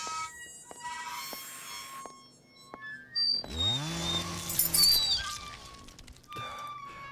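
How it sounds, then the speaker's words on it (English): A chainsaw revs up loudly in the horror game Skinned Alive, its buzzing roar rising mid-way amid sharp electronic game tones and beeps. "What's with the fucking chainsaw?"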